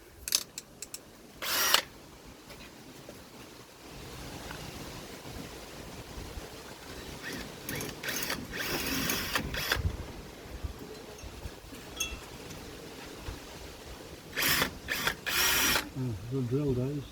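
A power drill bores into the metal of a VW jail bar, its grinding whine coming in short, loud bursts with pauses between them and someone talking at times.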